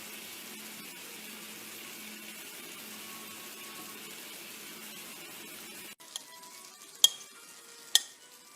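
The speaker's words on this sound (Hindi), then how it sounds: "ये चिकन इनमें डाल के 10 से 15 मिनट्स जो है लो हीट पे इनको कर लेते हैं।" Chicken pieces fry gently in cooking oil over low heat, giving a soft, steady sizzle that cuts off partway, followed by a few sharp clinks of utensils.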